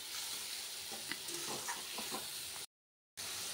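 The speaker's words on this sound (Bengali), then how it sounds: "কষিয়ে নেব মাংসটা" Mutton sizzles with whole spice tempering in a pan, a steady close frying hiss broken by soft scraping stirs, then a brief drop to silence before the sizzle returns.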